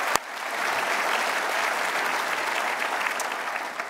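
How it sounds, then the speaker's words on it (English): Sustained audience applause at a campus lecture event, a dense steady clatter of many hands clapping for the full length, loud and even, with a sharp single clap at the very start. "Let's give a big round of applause to our campus leadership."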